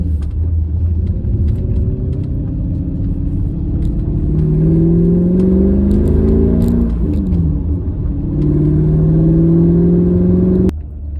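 Mercedes C55 AMG with a six-speed manual pulling hard through the gears, engine note climbing steadily, a quick shift drop near the middle, then rising again before cutting off abruptly, loud and close throughout.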